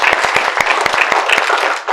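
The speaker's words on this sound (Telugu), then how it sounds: "ఒకసారి గట్టిగా క్లాప్స్ మీ అందరికీ" An audience at a ladies' special program, after a game, breaks into steady applause: dense, close clapping from many hands that continues evenly for two seconds.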